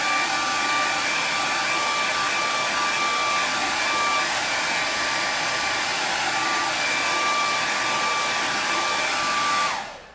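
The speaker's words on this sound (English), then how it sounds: "So you use your hair dryer, put it on high." A hair dryer set on high drying freshly painted Easter eggs gives a steady, loud, close whirring roar that runs unbroken before cutting off at the very end.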